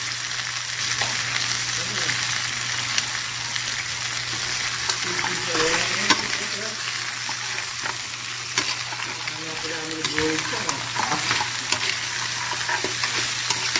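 Crab fries in a pan, a continuous close hiss and sizzle of hot oil with occasional spatters, while voices talk faintly in the background.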